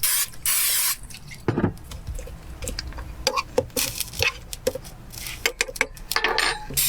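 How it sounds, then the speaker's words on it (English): Short hissing bursts from a spray can over a pan of shrimp with Cajun spice, cooked in a car, followed by scattered clicks and taps of cooking. "I'll actually spray some."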